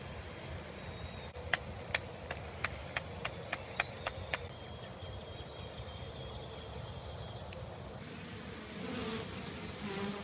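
Honey bees from a package buzzing as a steady dense drone, with a quick run of sharp ticks and taps near the start and faint rustling later, close and even in level.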